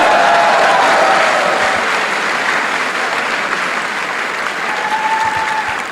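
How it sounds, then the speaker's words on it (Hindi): Dense, continuous applause from an audience at an Amway Diamond recognition event fills the whole stretch at a steady, loud level, easing slightly toward the end. "गिरीश एंड प्रीति साम्याल, ताली बजाओ।"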